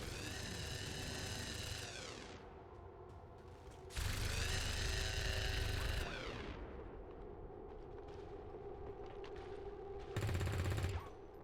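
Bursts of SMG and machine gun fire in the XCOM Long War tactical game: two loud sustained volleys of a couple of seconds each, then a short final burst, over a steady low hum of background noise.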